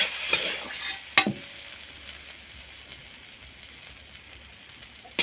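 Onion and cauliflower frying in a pan, a steady soft sizzle punctuated by a few sharp scrapes and clinks of stirring, with no voices.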